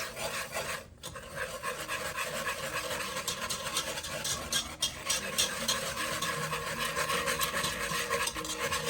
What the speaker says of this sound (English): And we're going to whisk that together until it's smooth.